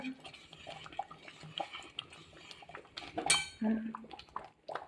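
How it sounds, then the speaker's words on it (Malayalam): A spoon works through thick halwa in a pan, giving soft scraping strokes and occasional light clinks of metal, close but fairly quiet, with a voice talking over parts of it. "കൈ നിർത്താതെ ഇളക്കണം"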